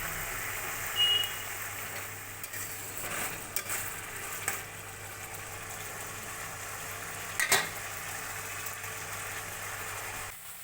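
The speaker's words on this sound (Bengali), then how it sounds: "এবার ভালো করে যতক্ষণ না তেল বেরিয়ে আসে মশলাটা কষে নেবো" A spice paste fries in oil in a pan for a potato dish, a soft steady sizzle with occasional faint stirring scrapes, and a distant beeping in the background.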